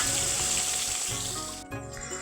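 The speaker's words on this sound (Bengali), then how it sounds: "তো মাছটা ওদিকে ভাজা হচ্ছে," Hilsa fish pieces coated in salt and turmeric frying in oil, a continuous sizzle that fades a little, then a brief gap and softer crackling.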